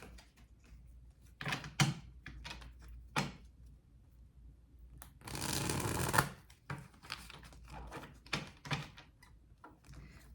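A deck of oracle cards is shuffled in several quick riffling bursts with pauses between them. One longer, louder shuffle comes in the middle. The sound is close and quiet, with no talking.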